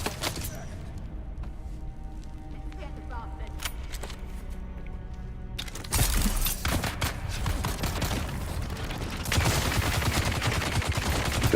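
Rapid Gatling gun fire in a video game, dense bursts of shots that grow louder and harsher partway through, with excited voices talking over the shooting.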